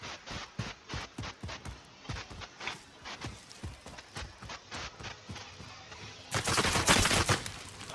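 Gunfire in the video game Call of Duty: Warzone: a steady run of sharp, evenly spaced shots, then a louder, dense burst of fire near the end, with no talking.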